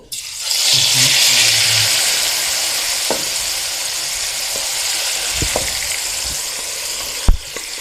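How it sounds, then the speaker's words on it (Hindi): Grated carrots sizzle loudly in hot ghee for gajar ka halwa, a dense steady frying hiss with occasional stirring clinks and a sharp knock near the end, no voices. "गर्म जैसे ही होता है तो हम इसमें गाजर ऐड करते हैं"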